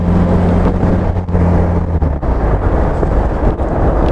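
Austin Healey Frogeye Sprite with a supercharged A-series engine, pulling in third gear on the road: a steady, loud raspy engine drone with low rumble throughout, no talking.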